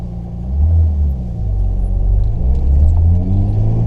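Car pulling away on a drive around the old Lobethal Grand Prix road circuit, a loud close low engine rumble that swells as it accelerates and holds steady, with no talk.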